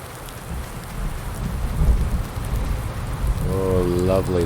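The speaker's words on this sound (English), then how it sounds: "Lovely, lovely chunk of thunder there." Thunder rumbling low and steady through rainfall, building in loudness toward the end, with a brief voice-like tonal sound near the close.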